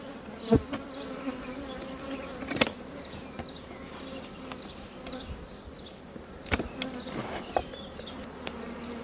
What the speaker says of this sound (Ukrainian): Дивіться, бджоли повно.